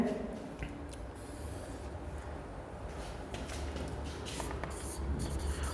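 A pen scratches out an equation for a parallelogram-of-forces problem, a soft continuous scribbling with faint strokes and taps, close and quiet, with no talking.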